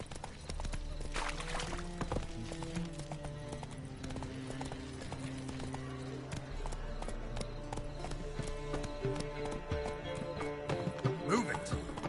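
A horse in The Witcher 3 video game gallops with rapid, rhythmic clip-clop hoofbeats and occasional whinnies, moderately loud, while a voice speaks briefly over the game sounds.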